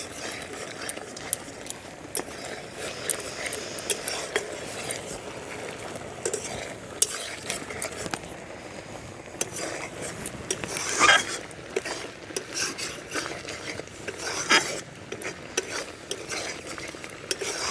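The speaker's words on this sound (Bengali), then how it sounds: "গুড়টা আমার ফুটছে, এই সময় অনবরত নাড়তে থাকবো।" Jaggery (gur) bubbling in a pot for homemade ginger-honey-pepper lollipops, stirred constantly with a spoon that scrapes and clicks against the pan bottom over a steady low simmer, close and moderately loud, with no talking.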